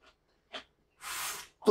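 A single short, sharp sneeze bursts out during a hot pepper eating challenge, set among quiet breaths and sounds from the mouth and followed right away by someone starting to speak.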